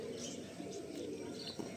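Soft, steady cooing from pigeons in a loft, a low continuous murmur of several birds that stays faint and fairly distant throughout.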